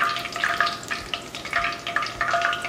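Chicken pieces fry in hot oil for a short stretch, a close, bubbling crackle that rises and falls in small bursts.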